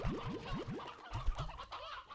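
Chickens in the video game Slime Rancher 2 cluck in a quick rhythmic series of clucks, followed by a few lower, softer clucks, close and clear.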